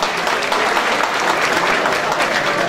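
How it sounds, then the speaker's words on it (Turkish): Dense, steady applause from a crowd at a community association solidarity night in Erzincan, filling the hall continuously with no talk over it. "Alkışlıyorum kendilerini."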